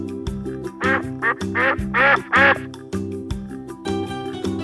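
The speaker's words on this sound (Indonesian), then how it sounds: "bebek" A duck quacks in a quick burst of several loud, nasal calls over light background music.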